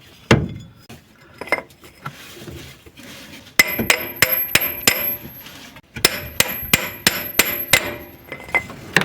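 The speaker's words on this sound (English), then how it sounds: "To remove the cylinder, try not to break anything and try to hammer it out with something." Hammer blows driving out a seized, leaking cylinder from an Alfa Romeo 33 1.3 twin carburetor pump, long stored; sharp metallic strikes, a few scattered at first, then two quick bursts of about six evenly spaced ringing clinks.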